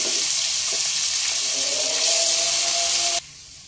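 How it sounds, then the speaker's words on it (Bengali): Chopped onions hit hot oil and ghee in a pan with a loud, steady sizzling hiss, which cuts off abruptly to a quieter background. "2টো মিডিয়াম সাইজের পেঁয়াজ কুচিয়ে রেখেছিলাম দিয়ে দেব।"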